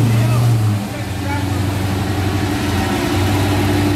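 A 600-horsepower Chevy donk on 34-inch rims idles with a loud, close, deep rumble that dips in pitch about a second in, then settles into a steady low hum.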